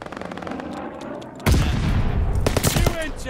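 Rapid gunfire from a gun in a video game, a sudden loud burst that breaks in after a quieter rattling lead-in and continues as dense, close rapid shots to the end.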